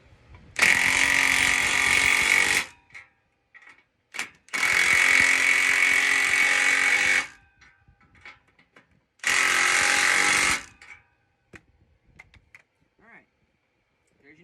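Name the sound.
impact wrench tightening exhaust clamp nuts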